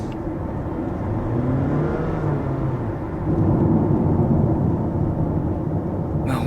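Cabin of a new Honda Vezel (HR-V) hybrid accelerating while turning the steering wheel: a steady low engine and road drone that swells a little louder partway through, with no talking.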